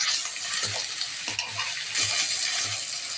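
Gobi manchurian frying in a pan gives a steady, loud hiss and sizzle, broken by soft clicks and knocks from the spoon.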